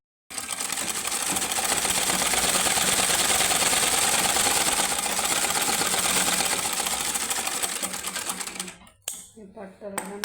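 A sewing machine stitches a skirt panel in a steady, continuous whir of rapid needle strikes for most of the clip, then stops abruptly near the end, leaving a few faint clicks and handling sounds.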